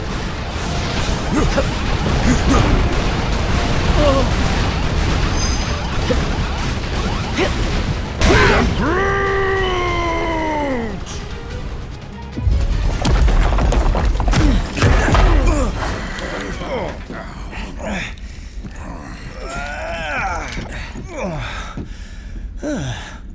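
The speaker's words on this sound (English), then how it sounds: "The bridge is falling apart." Bridge falling apart during Marvel Ultimate Alliance 3: The Black Order gameplay, with loud continuous rumbling, crashing and whooshing debris, descending groaning tones and a gasp-like vocal, dense and sustained throughout.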